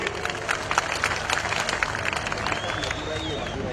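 A large, enthusiastic crowd at a political rally in Madurai keeps up dense, continuous applause and cheering, with a faint whistle rising above it near the end.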